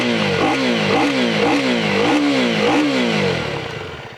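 A Husqvarna Vitpilen 250 with its KTM-derived 250cc single-cylinder engine revs repeatedly, a close, loud, brappy rise and fall in quick cycles that eases off at the end.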